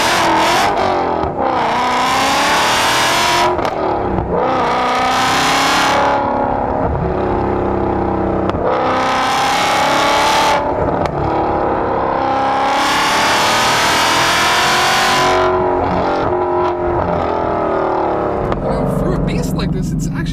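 Supercharged 2016 Ford Mustang GT accelerating hard through the gears, engine note repeatedly rising in pitch then dropping at each shift, loud and close from inside the car, with someone talking over parts of it.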